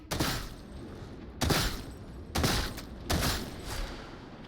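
Gunfire in the video game Darktide, four bursts of shots with short pauses between, close and fairly quiet with no voices.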